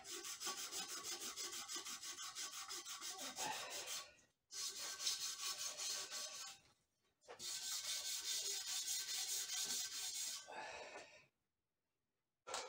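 Epoxy glue being scraped off the swingarm of a 1991 Honda CR250R motorcycle: close, steady rasping strokes in three long runs separated by brief pauses.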